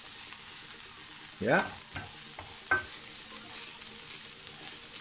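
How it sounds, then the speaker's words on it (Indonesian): Beef for shawarma with parsley is stirred in a hot frying pan, giving a steady sizzle under a couple of scraping stir strokes close by, with a brief spoken word. "Ya, kurang lebih 1 menit kita aduk bersama dagingnya."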